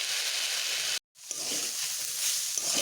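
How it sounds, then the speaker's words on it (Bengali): Banana stem and jackfruit seeds frying in a pan give off a steady, close sizzle that drops out briefly and then resumes, with faint stirring clatter mixed in. "এবার এই সবগুলোকে বেশ ভালোভাবে ভেজে নেব।"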